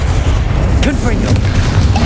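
Confringo fire spell explosions booming through a magical duel in Hogwarts Legacy, a loud continuous low rumble with bursts stacked on chaotic combat noise and shouted spell calls.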